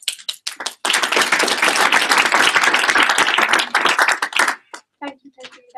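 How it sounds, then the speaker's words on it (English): A reception audience breaks into loud, steady applause that lasts several seconds, then thins out to a few scattered claps. Brief voices can be heard near the start and end. "So would you like to give another round of applause?"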